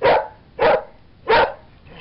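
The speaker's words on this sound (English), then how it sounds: "The dog's happy." A dog barks three times in an even rhythm, loud and close, outdoors near a DIY windmill and water pump.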